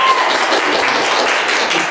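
Dense, steady applause from an audience at a university vocational program event, continuous clapping throughout without voices on top.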